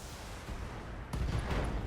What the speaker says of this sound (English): There we go. Got an ammo explosion.